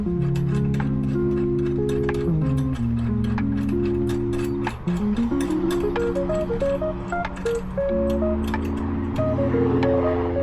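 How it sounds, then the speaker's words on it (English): A ratchet tightens down a throttle cable bracket during an LS swap throttle cable install on a K5 Blazer, with quick repeated clicks running steadily over pitched background music. "we're going to just screw this all down nice and tight."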